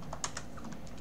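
Quick, light keystrokes as code is typed on a computer keyboard, a short irregular run of clicks heard close and alone.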